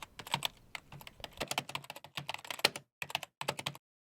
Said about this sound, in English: keyboard clicking,